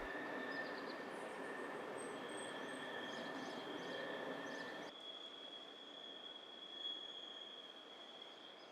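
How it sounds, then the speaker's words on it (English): A Swiss postal freight train rolls past at a distance, about to cross a river, a steady rumbling wash of wheels with a thin high squeal running over it. "Also about to cross the river is a postal train for the Härkingen postal centre."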